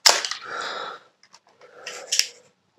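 Film camera shutter firing in low light: a sharp mechanical click opens the exposure, a quiet pause follows, and a second crisp snap closes it about two seconds later, close and alone.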